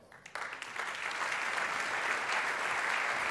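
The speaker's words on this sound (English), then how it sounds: "please welcome up to the stage with a round of applause the Regional Secretary of Culture and Sport, Chimo López" Audience at a MotoGP awards ceremony breaking into applause as a regional official is called to the stage, a dense wash of clapping that swells quickly and holds steady.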